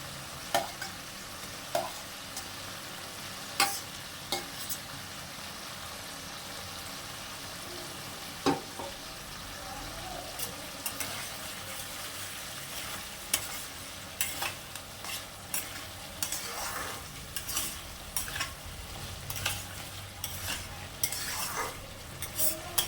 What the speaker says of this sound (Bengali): এবার এর মধ্যে আমি ভেজে রাখা আলুগুলো দিয়ে দেবো।